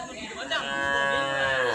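A cow lets out a single long, loud moo up close, rising from a short grunt into a sustained drawn-out call lasting over a second.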